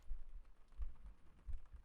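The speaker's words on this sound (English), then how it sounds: "meanwhile, you listen to the heartbeats" Low, muffled thumping pulses repeat in a steady rhythm, soft and close, like a heartbeat heard through a stethoscope, with no voices.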